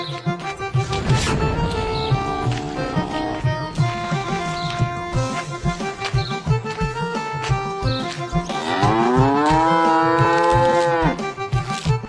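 Buffaloes lowing in a cattle shed: loud, drawn-out moos over a steady rhythmic backdrop, with a long rising bellow toward the end.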